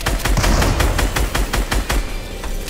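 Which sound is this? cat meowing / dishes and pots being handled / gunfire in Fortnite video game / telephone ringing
gunfire in Fortnite video game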